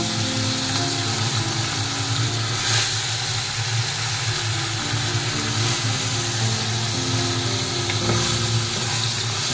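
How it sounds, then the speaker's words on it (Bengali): Sarpunti fish, coated in turmeric, frying in a hot wok: a loud, steady, hissing sizzle runs unbroken throughout, with a rough mechanical rattle beneath it and no talking. "আমার কড়াইটা গরম হয়ে গেছে, আমি মাছটা দিয়ে দিচ্ছি।"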